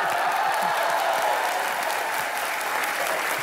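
Studio audience applause on a Hindi television comedy show, dense and steady throughout, loud and close with many hands clapping at once and no talk over it.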